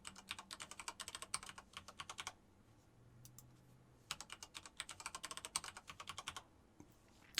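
Someone types a password on a computer keyboard during a Wiki.js setup on a Raspberry Pi 4, with two bursts of quick close key clicks separated by a quiet pause.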